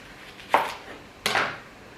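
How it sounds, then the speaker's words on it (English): A knife slices through an onion on a cutting board, two crisp separate cuts about a second apart, close and clear with no talk. "I'm only gonna cut half because I don't know if everyone wants onion"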